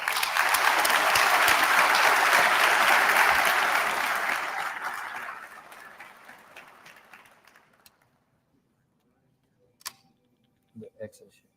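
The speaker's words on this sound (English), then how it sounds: "Would you please give them a round of applause?" Ceremony audience applause at a police memorial and awards event, a loud dense burst for about five seconds that fades out, followed by near silence and a few faint clicks.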